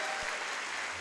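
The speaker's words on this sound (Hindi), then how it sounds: "बजा लो जोरदार ताली" A seminar audience in Lucknow gives loud, dense applause, an even roar of many hands clapping at once through the whole brief moment, with no speech over it.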